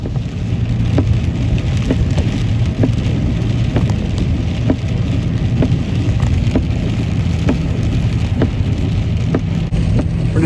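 Heavy rain pours onto a road and vehicle just after a tanker truck passes, a constant loud hiss with steady low rumble and regular soft ticks, no talking.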